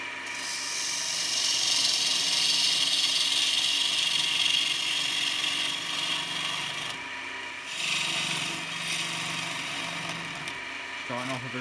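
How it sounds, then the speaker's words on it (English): A wooden goblet spins on a wood lathe while a tool scrapes out its hollow, making a steady, close rasping and rubbing that runs the whole time, with a brief change in tone partway through. "Starting off a bit of the hollowing there."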